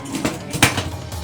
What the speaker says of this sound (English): This is the lid for it, so we're gonna put the lid on it.